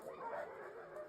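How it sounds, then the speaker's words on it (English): Excited dogs yipping and bow-wowing in a quick, eager burst, fairly faint and slightly distant, with a whimpering edge to the calls. "The symphony of dogs"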